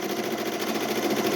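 An embroidery machine stitches a design onto a hoodie held in a magnetic hoop, giving a steady, rapid, rhythmic needle chatter over a continuous motor hum, close and unbroken.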